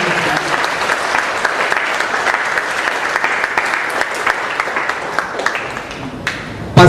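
A church congregation claps together during a sermon on the Lord's Prayer, a loud, sustained wash of many hands that continues evenly for several seconds before cutting off.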